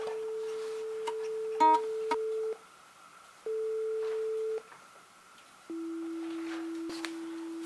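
Steady electronic reference tones for tuning a charango's strings to concert A at 440 Hz, sounding as several sustained pure beeps separated by brief gaps, with faint clicks between them.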